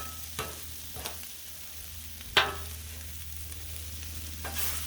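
Beef and vegetables stir-frying on a Blackstone griddle give off a steady low sizzle with a few sharp scraping clicks from a spatula, heard up close with no talking.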